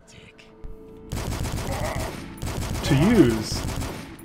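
Pistol shots ring out in the first-person shooter video game Dusk as a quick burst of sharp reports, with someone talking over the gunfire.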